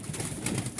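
White pigeons coo softly in a low, rolling murmur at a nest, with repeated throaty calls overlapping throughout.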